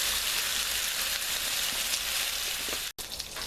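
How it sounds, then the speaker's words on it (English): Bacon sizzles and crackles steadily on a Blackstone griddle, a dense continuous hiss with scattered pops and a brief break near the end. "Let's get that bacon going."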